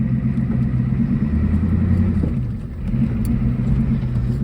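A 1980s Ford F250 diesel farm truck engine drones low and steady while driving up a road, rumbling continuously with a brief dip in loudness midway.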